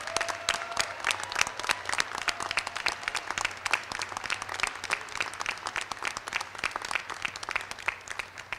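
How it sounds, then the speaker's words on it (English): A commencement audience applauds the graduates with a crisp, continuous clapping of many hands, individual claps clearly audible, steady at a moderate level from start to finish over a low background hum. "Will the members of the audience please join me in one more round of applause for these"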